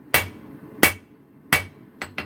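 Hammer blows on a metal anvil ring out as four sharp, bright strikes, the first three evenly spaced and the last two quick together, loud and close with no talk.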